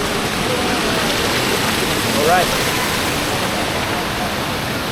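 Sprite Falls waterfall at a spring resort in Majayjay, Laguna, a steady, loud, broadband rush of falling water that fills the scene, with one brief spoken word rising over the roar.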